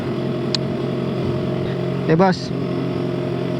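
A Kawasaki Z900 motorcycle engine hums steadily at a low, even idle close by, while someone briefly speaks over it partway through.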